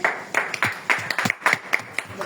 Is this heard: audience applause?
yes